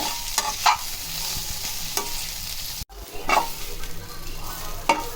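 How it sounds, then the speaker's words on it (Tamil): Ivy gourd (kovakkai) stir-fries in a pan for a poriyal. A steady sizzle sits under repeated scraping stirring strokes at an uneven pace, close and moderately loud. "பாதி வறுபட்டுருக்கு, இன்னும் வறுபடணும்."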